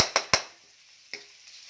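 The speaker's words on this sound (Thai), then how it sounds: "ผัดให้หอม" A utensil clacks against a pan while stir-frying bamboo shoots: three quick sharp taps, a pause, then one more, fairly quiet.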